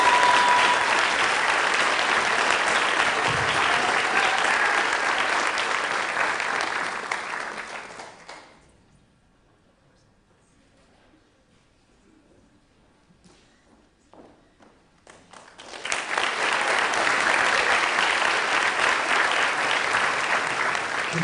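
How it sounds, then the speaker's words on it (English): Loud, dense applause from an awards-ceremony audience honoring girls' basketball and other athletes, sustained for about eight seconds, fading into near silence, then swelling back to full clapping for the final five seconds. "Let's give them one more big round of applause."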